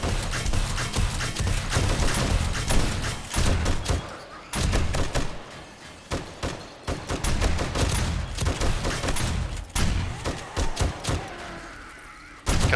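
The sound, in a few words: SMG gunfire in 7 Days To Die video game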